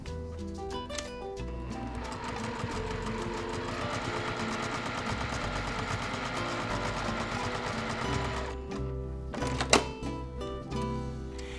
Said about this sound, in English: now we're going to stitch on the machine from point to point